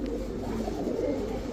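A Pakistani pigeon coos in low, rolling murmurs, close and continuous over a brief stretch, with no talking.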